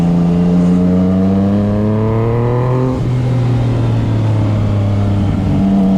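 A Yamaha MT-09 motorcycle revving hard under a heavily twisted throttle on a mountain road, its engine note rising steadily, dipping briefly, then climbing again, close and loud.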